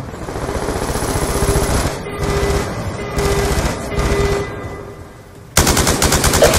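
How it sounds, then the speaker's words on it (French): Sustained automatic gunfire in the Call of Duty Black Ops 2 video game, dense rapid bursts with brief gaps, then a louder, harsher volley near the end; no speech. "On fait feu sur les ASD ennemis."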